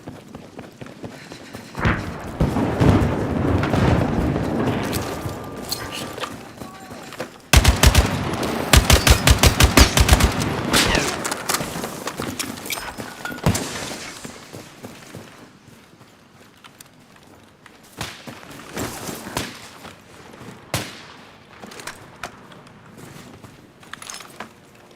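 Battlefield 6 gunfire: sustained machine-gun bursts and scattered shots ring out loud and close, with a dense rapid volley in the middle before thinning to sporadic distant shots and thumps.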